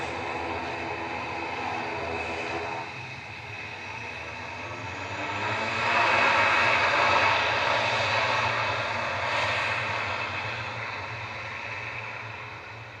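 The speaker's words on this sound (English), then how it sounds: "Noisy Prop heading back to Belfast now, GCMJN. This is Aer Lingus Regional Flight 3611, ATR" An Aer Lingus Regional ATR 72-600 turboprop departing Manchester Airport, its steady propeller drone swelling to a broad roar near the middle before slowly easing off, with no voices over it.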